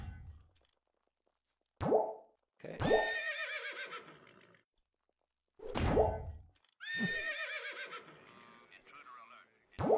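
Horse neighing in the video game Wurm Unlimited, several loud whinnies alone, separated by short pauses of silence.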